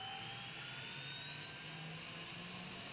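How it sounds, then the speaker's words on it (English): A helicopter starting up in the video game ARMA 3, its turbine whine rising slowly in pitch over a faint, low, steady engine drone, distant and quiet throughout. "Maybe that's his helicopter?"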